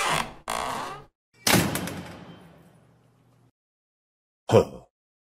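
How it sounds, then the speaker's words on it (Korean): A heavy gate door slams shut with a booming thud that rings out and fades slowly, framed by a few shorter knocks and bumps. "대문을 쾅 하고 닫으며 들어가 버리는 것이었습니다"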